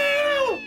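A voice mimics a cat with one drawn-out, falling meow, close and clear, lasting under a second.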